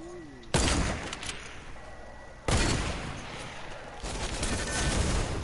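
Video game gunfire rings out in three sharp, loud bursts, each hitting suddenly and then trailing off into a rattling spray of shots.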